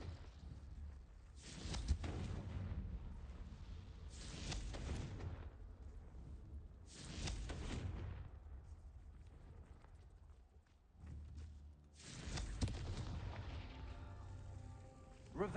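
Confringo blasting spells go off in a Harry Potter video game as a run of booming explosive blasts over a steady rumbling background, with no talk.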